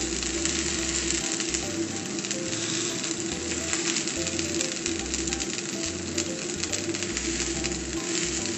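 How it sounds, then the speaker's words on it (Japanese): Cabbage pancake with cheese frying over medium heat in a pan, a steady, even sizzle of hot oil with small crackles, continuous and close throughout. "それで中火で2、3分くらい焼いていく"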